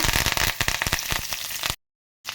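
Mustard seeds, cumin, dried chilli and curry leaves spluttering in hot oil for a sambar tempering, loud crackling and popping that drops to silence briefly before resuming.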